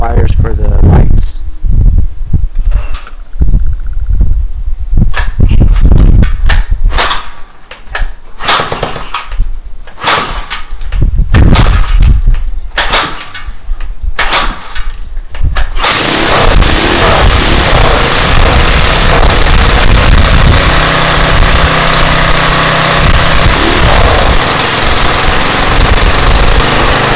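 A GY6 motor on a homemade tracked tank-style vehicle is kickstarted partway through, then settles into a loud, steady, continuous idle drone that fills the remaining stretch after a noisy, clattering start.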